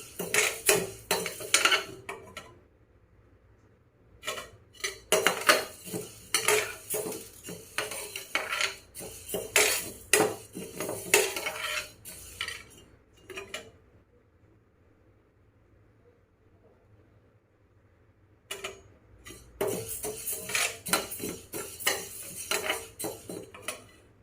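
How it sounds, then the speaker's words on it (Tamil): Grains roasting in a kadai are stirred with a metal spoon, making bursts of loud scraping and clanking against the pan, with two long quiet pauses between the rounds of stirring. "நான் 1/2 டம்ளர் எடுத்து கடாயில் போட்டு ரோஸ்டட் பண்ண போகிறேன்."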